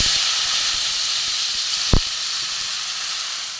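A steady, loud hiss comes from fried spice masala in a pan after a splash of water is added, holding evenly throughout with one brief knock midway.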